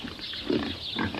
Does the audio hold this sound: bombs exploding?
no